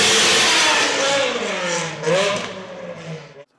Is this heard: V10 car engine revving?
yes